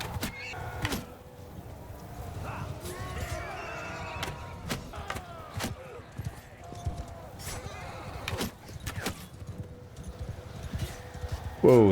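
Horse archers in a strategy video game set in Amir Timur's era, with scattered hoof clip-clops, horse snorts and a clear neigh near the end, over a busy battlefield ambience with a voice speaking.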